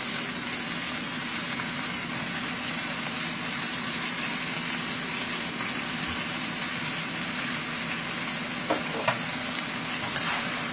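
Lo mein sauce hits a hot pan and sizzles steadily and loudly throughout, with a few faint scraping clinks near the end.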